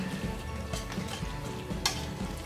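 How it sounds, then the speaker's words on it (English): A whisk stirs a macaroni and cheese mixture in a bowl, giving soft, wet, continuous scraping and swishing with a few light taps against the side, fairly quiet and with no talking. "we're just going to stir this in real quick before we add it to our pot"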